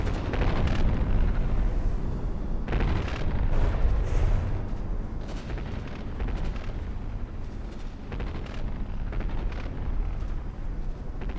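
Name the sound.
CRAM cannons firing in a battleship video game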